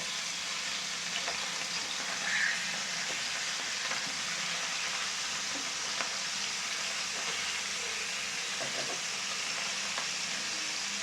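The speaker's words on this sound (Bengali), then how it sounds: "মাছগুলো এক পাশ ভাজা না হওয়া পর্যন্ত আমি অপেক্ষা করছি।" Rohu fish pieces frying in oil in a pan give a steady, soft sizzling hiss with a few faint crackles, fairly quiet and continuous, with no talking.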